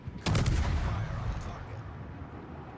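Naval gunfire in a warship video game: a heavy, close salvo bursts out early and rolls into a long rumbling decay under steady background noise.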